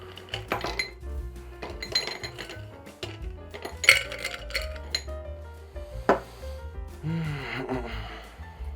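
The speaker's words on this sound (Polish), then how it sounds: "taki również dodaję lodu z zamrawalki" Freezer ice cubes clink and clatter into a glass in a series of sharp knocks and chinks, moderately loud, among other kitchen handling noises.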